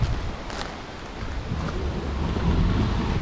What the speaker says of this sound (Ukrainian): Сьогодні трохи вітряно.